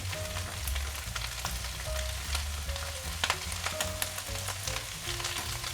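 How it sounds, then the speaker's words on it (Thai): Carrot and garlic stir-frying in a pan, with a steady broadband sizzle throughout and intermittent scrapes and clinks from stirring, close and fairly loud, with no talking. "ผัดผสมกันเบาๆ"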